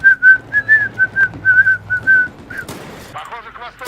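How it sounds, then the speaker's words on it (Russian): Someone whistles a quick run of short, bright repeated notes close by, then stops; rustling and a brief voice-like sound follow. "Мне не нравится свист"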